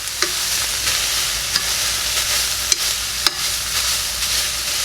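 Ground meat and chopped celery for sloppy joes sizzle steadily in a pan, broken by a few sharp knocks and scrapes as a masher breaks up the meat; no talking.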